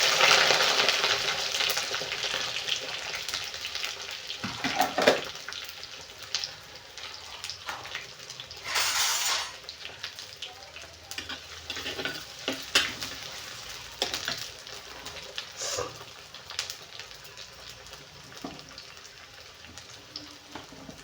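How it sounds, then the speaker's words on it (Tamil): Onions frying in a pan: a steady, broad sizzle with occasional stirring scrapes and small crackling bursts, moderately close and without any talking. "வெங்காயத்தை போட்டுடலாங்க."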